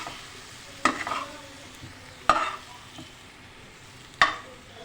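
Three sharp sizzling bursts, each a sudden hiss that fades quickly, as crushed mustard seeds and nigella seeds hit hot oil over a low steady background of frying in a pan.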